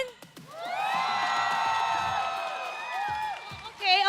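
Excited esports crowd at the MPL PH Mobile Legends final cheering for the Falcons AP Bren team, a loud sustained roar of shouts and whoops swelling up and holding for several seconds before fading.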